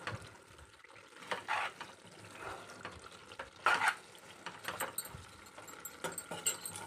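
A spoon stirs a Telangana-style chicken masala fry with curry leaves in a hot pan, giving soft scraping strokes and light clinks over a low sizzle, close and fairly quiet.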